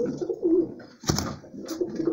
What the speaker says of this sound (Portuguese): É Renatão aí mostrando a criação de pombo correio dele aí